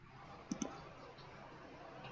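A computer mouse gives two quick, close clicks in a row, faint against a soft room hiss, with no further clicks afterward.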